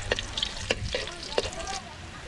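Cooking oil sizzles in a pan, a close, crackling hiss punctuated by sharp pops and spatters, steady and moderately loud with no talk.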